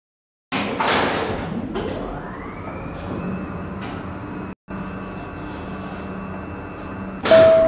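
A Skytec Nova lift at the company headquarters runs its door-closing sequence: a loud start, a rising whine that settles into a steady motor hum with faint chimes, and a brief silent gap before a final clunk.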